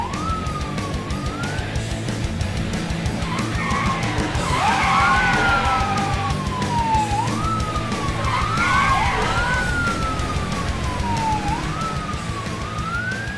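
A small cartoon police car's siren wails in repeated rising and falling sweeps over a steady engine rumble, with squealing skid-like sounds mixed in, loud and close throughout.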